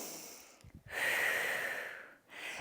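A long, steady breath out during a pregnancy pilates exercise, audible and close after a short sniff-like intake, then easing off into quiet.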